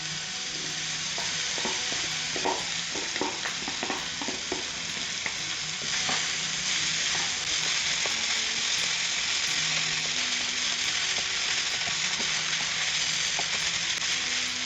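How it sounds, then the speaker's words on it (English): Pre-cooked rice is stirred in a hot pan with oil for podi rice, producing a loud, continuous sizzle with repeated scraping strokes of the spoon up close. "Give it a nice mix, and to this we are going to just put pre-cooked rice."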